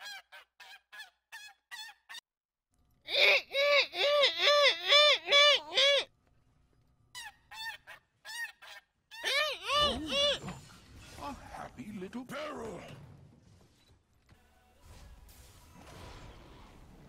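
A person imitates a goose with loud, repeated nasal honks in short bursts, a few at first, then a dense run of honks, then more calls that trail off into breathy vocal noises.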